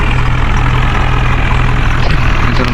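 A tractor engine runs steadily while being driven forward, a loud continuous low diesel rumble with a constant drone and no break, close to the microphone.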